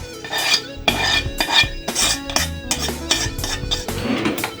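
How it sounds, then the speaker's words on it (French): Chopped onions and peppers tumble into a salad bowl already holding potatoes, a close, busy run of clattering and scraping bursts as the pieces are tipped and shuffled in, with no talking. "Je prends mes oignons et mes poivrons que je verse également dans mon saladier."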